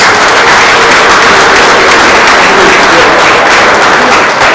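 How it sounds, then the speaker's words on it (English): Loud, dense, sustained applause fills a track and field Hall of Fame induction banquet hall, the steady wash of many clapping hands continuing unbroken throughout. "So give yourselves a great round of applause."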